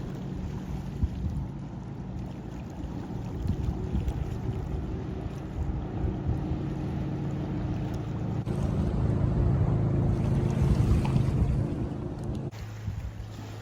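A motorboat towing a water skier on Kielder Water in Northumberland drones steadily in the distance, swelling louder midway, with wind buffeting the microphone and water lapping.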